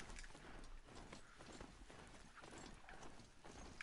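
In the video game Horizon Zero Dawn, a ridden mount's hooves clip-clop in a quick, steady rhythm, faint and close, with no other sounds over them.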